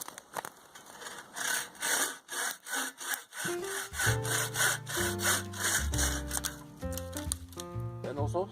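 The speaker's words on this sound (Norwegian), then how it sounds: "Den også sager svært bra" A hand saw cuts through wood in rhythmic back-and-forth strokes, close and distinct. About halfway through, tonal musical sounds join in beneath the continued sawing.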